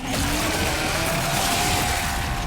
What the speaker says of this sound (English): This chainsaw has a 14-inch blade with that signature meaty yet intimate sound, and when it revs